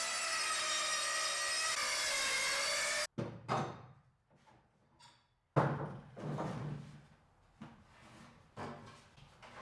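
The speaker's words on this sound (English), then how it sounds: "I started cutting down some timber for the doors." Timber being cut to size for barn doors, heard as a run of rough sawing strokes and wood knocks at close range after a steady mechanical drone, with no talking.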